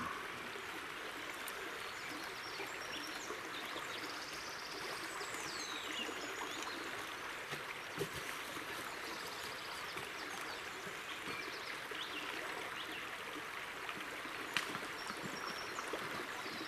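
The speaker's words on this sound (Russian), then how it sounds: "Ручей." A forest stream in early April, with ice still about, flows steadily and close by as a continuous broadband rush and trickle, with no talk over it.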